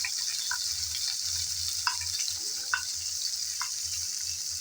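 Chopped garlic dropped into sizzling oil with dried fish, a steady hiss of frying with a few soft clicks of a utensil against the pan, close and fairly even with no talking.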